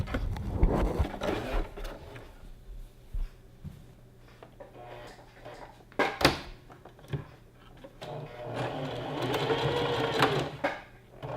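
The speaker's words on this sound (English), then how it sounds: "now we're going to sew our panels together, starting with the shoulders" A sewing machine stitches maxi dress panels together at the shoulders in uneven, intermittent runs, mixed with fabric handling, knocks and a sharp clack, building to a steadier whir near the end.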